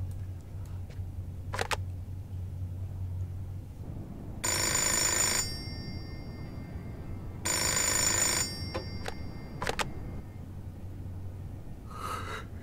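A telephone rings in the video game Indigo Prophecy, two long electronic ring bursts spaced a few seconds apart over quiet room hum with scattered clicks.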